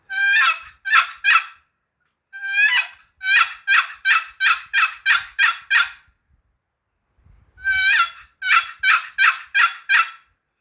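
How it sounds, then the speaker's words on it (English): Sharp, raspy turkey yelps from a wooden box call, several bursts of four to nine evenly spaced notes with short pauses between, loud and close with no other sound. "box call. This is the easiest call to use."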